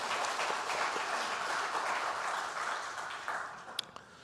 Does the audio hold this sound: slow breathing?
no